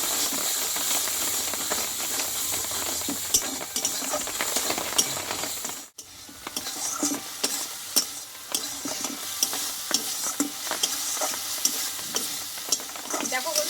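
Spices with salt and turmeric are sautéed in a pan for Bengali aloo potol dum, a dense steady sizzle with repeated scraping stir strokes, a brief break midway, then renewed frying and clicking.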